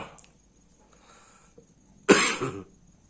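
A single harsh, forceful coughing fit from someone who is quite ill with a severe, persistent cough, loud and close, bursting out after a quiet stretch with faint background noise.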